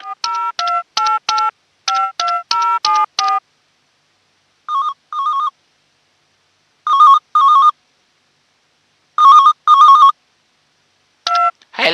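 A mobile phone ringtone plays within a song: bursts of bright electronic beeping tones in short clusters separated by silences, loud and clean.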